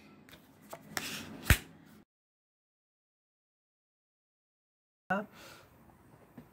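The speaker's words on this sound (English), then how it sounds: "So then I'll just keep creating spaces so I can flip over more cards." Playing cards from a Patriarchs solitaire layout are flipped over on a table, giving a few quick, close card snaps and slides, followed by a silent gap and then a brief burst of card handling.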